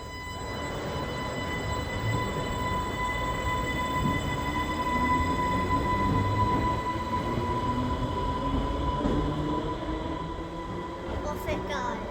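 Isle of Wight Island Line train pulling out of Ryde station, a steady loud rumble of wheels and motors with whining tones that lasts throughout, with a faint metallic squeal near the end.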